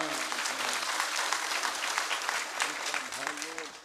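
Loud, dense clapping from a kirtan audience at an Independence Day gathering, with a voice speaking over the applause.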